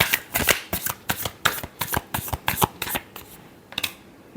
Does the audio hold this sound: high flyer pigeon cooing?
no